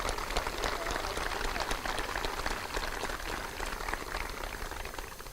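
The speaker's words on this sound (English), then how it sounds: "You can clap, go ahead." Faint, distant applause from a high school commencement crowd forms a continuous crackling patter throughout.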